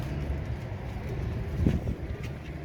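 Royal Teddy pigeons coo softly nearby, low rolling throaty calls over a faint steady background, with one fuller coo standing out midway.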